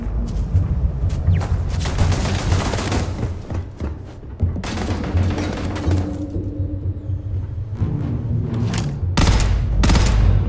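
Automated turret gunfire in the video game Starfield, bursts of rapid shots separated by short pauses, loud and sharp against a low game rumble, with the last volley hitting hardest.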